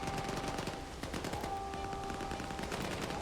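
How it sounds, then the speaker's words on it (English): Enemy gunfire in STALKER 2, a dense rattle of rapid automatic shots crackling continuously with a steady tonal hum behind it, loud and close throughout. "They're shooting at me now."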